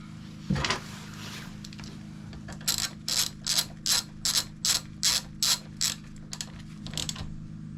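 A ratchet tightens a bolt on a Hangkai 6hp two-stroke outboard motor, a run of about a dozen crisp, evenly spaced clicking strokes, close and fairly quiet over a low steady hum.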